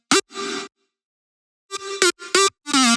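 A buzzy, bright synth lead from Alchemy plays clipped notes with a short sustained tone, falls silent, then returns with quick stabs and gliding pitch bends.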